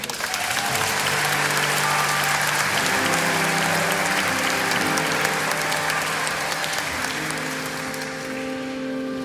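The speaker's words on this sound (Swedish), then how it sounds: "En stor applåd!" Full audience applause at a concert as a soloist is introduced, a thick, continuous wash of clapping with sustained tones from the stage beneath it, fading slightly at the end.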